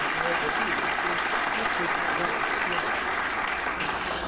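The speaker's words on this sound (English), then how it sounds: "A round of applause, please." Audience applause at an awards ceremony, steady sustained clapping from a seated crowd filling the room for several seconds, fairly even and unbroken.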